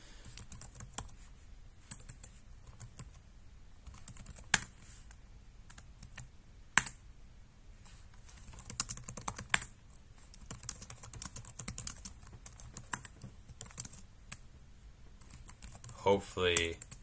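Someone types on a computer keyboard close by, with quick, irregular bursts of light key clicks, a few louder taps and short pauses between runs.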